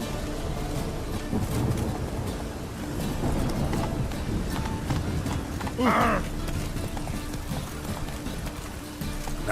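Geralt's horse Roach gallops in The Witcher 3: Wild Hunt, a continuous run of hoofbeats mixed with wind and outdoor game ambience, with a brief vocal sound near the end.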